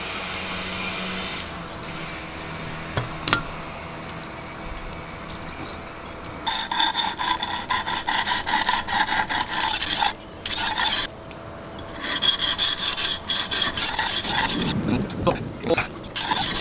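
A knife is sharpened on a Wicked Edge guided sharpener with 200 grit stones, making close, loud rasping strokes in rapid repeated bursts that start after a quieter stretch of scraping.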